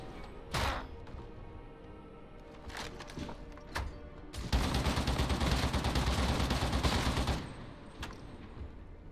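Gunfire from the Grogonum Mk IV stubber in Warhammer 40K: Darktide, a heavy, slow-firing gun: a few isolated loud shots, then a sustained burst of about three seconds, followed by scattered single shots.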